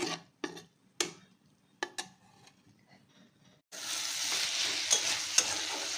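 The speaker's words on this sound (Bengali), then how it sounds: "আলু চিড়েটা একদম ভাজা ভাজা হয়ে গেছে" Potato and flattened rice frying in a pan at home; a few sharp clinks and stirring scrapes first, then a loud continuous sizzle that swells for the remaining seconds.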